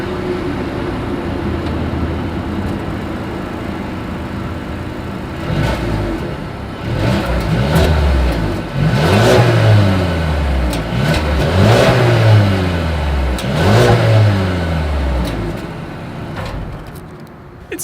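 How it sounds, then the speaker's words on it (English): A 2020 Mercedes-Benz A220 exhaust idles with a steady rumble, then revs several times in loud, rising bursts that fall back between throttle blips, close to the listener. "As always, here is that exhaust clip."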